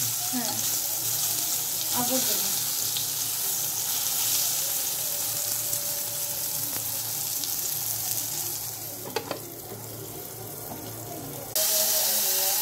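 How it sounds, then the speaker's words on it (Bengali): Fish frying in a pan right after a batch of fried eggplant, giving a continuous broadband sizzle with scattered clinks and faint running-water noise mixed in. "বেগুন ভাজা শেষ, এখন মাছও ভাজা হবে।"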